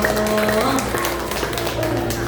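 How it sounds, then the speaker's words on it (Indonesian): A small audience at a therapy centre claps in a moderate, steady patter beneath a speaking voice, continuing evenly to the end. "tepuk tangannya dulu dong"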